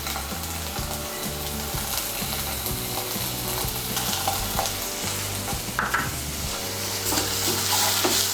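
Ginger and garlic paste frying with fried onions in a pan for egg biryani, a continuous loud sizzle with repeated scraping and stirring of a spoon against the pan, no talking.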